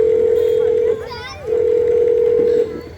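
A steady telephone dial tone hums loudly while a call is placed, broken briefly in the middle by a short child-like voice, then resuming and fading near the end.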